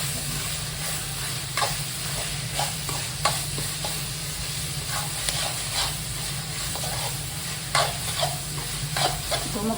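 Chopped onion pieces fry in a pan with a continuous close sizzle, broken by repeated scraping and stirring clinks of a spoon against the metal.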